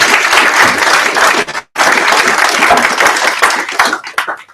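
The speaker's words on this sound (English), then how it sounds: "One more time, please give them a round of applause" A crowd claps loudly and steadily for a hackathon team at the final presentations. The sustained applause is cut by a brief gap and then resumes, thinning into a few scattered claps at the end.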